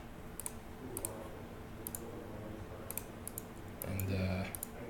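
Several light, crisp mouse clicks tick sparsely over a quiet room-tone background, with a brief low hum rising near the end.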